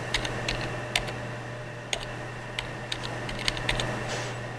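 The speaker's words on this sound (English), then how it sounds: "And when you're typing the password" Login password being typed on a computer keyboard while setting up a Raspberry Pi: a few scattered, sharp key clicks spaced irregularly over a steady low electrical hum, with no talking.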